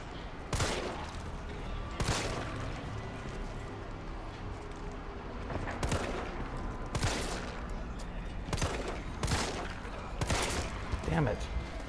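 Gunshots ring out in Resident Evil 3, a series of sharp, loud bangs spaced irregularly over a steady background of game ambience, roughly seven distinct shots.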